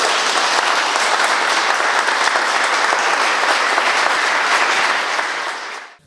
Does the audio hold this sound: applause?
yes